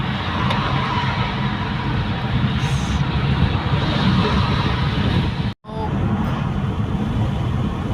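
A car cruises on a highway between the Netherlands and Belgium near Brugge, with a steady, loud road and engine roar that cuts out for a moment and then returns.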